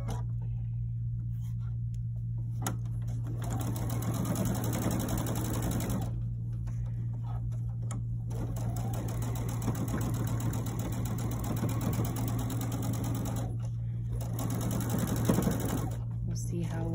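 Sewing machine stitching quilt seams together, a steady continuous motor whir and needle chatter running nearly throughout with brief pauses, under a low constant hum.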